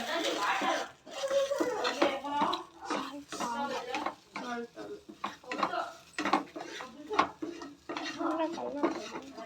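A utensil scrapes and clinks against a cooking pot as powder is stirred into food, the irregular metallic scraping arriving in bursts while people talk over it.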